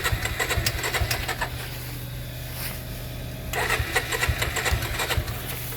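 A Suzuki V-Strom SX motorcycle engine cranks and sputters in uneven rhythmic bursts, stalls briefly, then resumes cranking without catching, loud and close.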